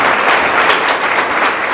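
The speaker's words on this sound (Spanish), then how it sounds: "Fuertes aplausos a nuestro Dios en esta mañana." A church congregation breaks into loud, sustained applause during a Sunday morning service, a dense, steady wash of clapping with no voices over it.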